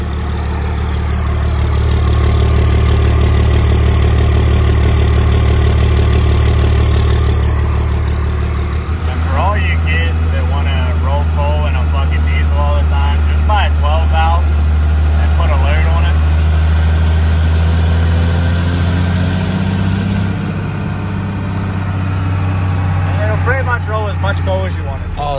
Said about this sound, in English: a 12 valve Cummins sounds